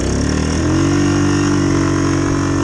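A vehicle engine revving with the differential locked, a loud close drone that climbs in pitch and then holds steady at high revs, with no talking.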